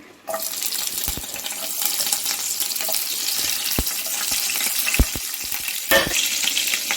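Green chillies fry in hot oil for a cabbage curry, giving a steady close hiss and sizzle after a sudden start, with a few sharp clicks and clatters from the pan.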